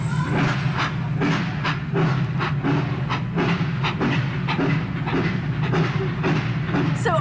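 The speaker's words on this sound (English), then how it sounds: "There's a train coming!" A passing train with rhythmic clickety-clack of wheels over rail joints and a steady rumble, fairly close and continuous for several seconds, heard alone without talk.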